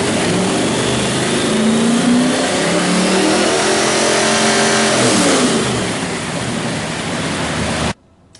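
A car engine fitted with an MSD distributor runs loud and close, its revs climbing and falling in a steady mechanical roar before cutting off abruptly near the end.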